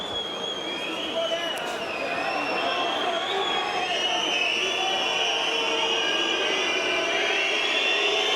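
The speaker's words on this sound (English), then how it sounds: "Crowd letting their thoughts and feelings be known quite audibly" A loud, roaring crowd at an OKTAGON MMA fight in a packed arena keeps up a steady, surging wall of jeers and cheers for several seconds, with a commentator's voice running underneath.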